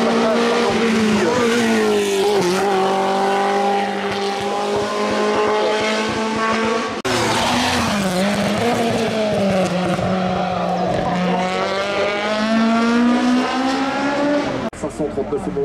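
A Renault 5 Turbo race car at a hillclimb revs hard and close, its engine note rising and falling through gear changes with tire squeal over about fifteen seconds, while a commentator talks over it.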